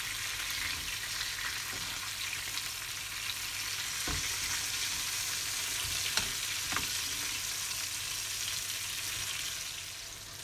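Veal escalopes fry in a pan while being basted, a steady close hiss of sizzling fat broken by a few soft clicks of a spoon.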